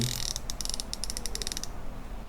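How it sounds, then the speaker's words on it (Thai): A Shimano Calcutta Conquest BFS 2023 baitcasting reel's drag clicker gives a fast, close run of bright clicks for about a second and a half, then stops, with no talking. "มีคลิกเสียงปลาลากแบบนี้"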